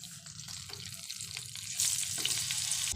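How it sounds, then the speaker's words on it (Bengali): Pieces of pointed gourd fry in hot oil with a steady, close sizzle and crackle that grows louder and hissier midway, with occasional stirring knocks. "এখন আমি পটলগুলোকে তেলের মধ্যে দিয়ে ভালো করে ভেজে নেব"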